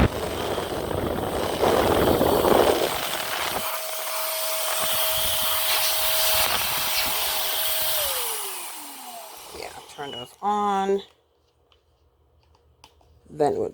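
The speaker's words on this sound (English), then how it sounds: "You just twist it all the way on, then it blows the balloon." An electric balloon pump runs with a steady motor drone for several seconds, inflating a balloon, then winds down, followed by brief squeaky rubber sounds near the end.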